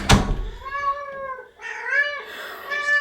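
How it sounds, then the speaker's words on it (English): A cat meows indoors, a sharp knock or thump first, then two or three drawn-out, tonal meows close to the listener with brief pauses between. "You still meowing?"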